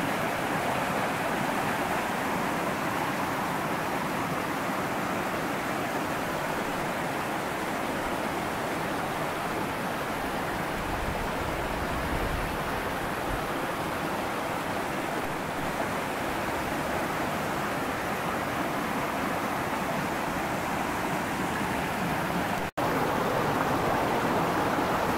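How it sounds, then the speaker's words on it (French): A small mountain torrent runs along rock in a narrow canyon-like gorge in the Ardennes, its steady broadband rush constant and close throughout. "on a un beau petit torrent de montagne qui coule le long de la roche dans un pseudo-canyon"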